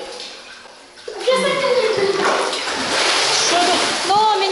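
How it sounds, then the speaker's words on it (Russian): Water splashes and sloshes in a bathhouse tub, with bursts of splashing and overflowing water running under lively voices, loud and close. "Ну, меня не надо брызгать. Боже, у вас вода из берегов выходит."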